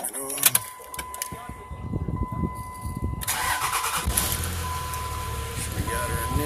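A 2004 Dodge Ram 2500 5.9L diesel pickup engine cranks and catches, settling into a steady low rumble of idling while a person talks nearby.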